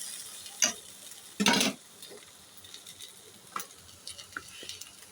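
A breakfast snack frying in oil in a pan, giving a soft continuous sizzle with a few sharp clatters and one loud burst of spatter as it is turned over, with scattered light ticks afterward.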